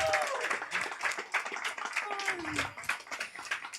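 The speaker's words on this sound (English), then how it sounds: "Round of applause for David" Audience applause at a stand-up comedy show in Lviv, a loose, uneven patter of clapping with a few cheers, heard under a speaking voice.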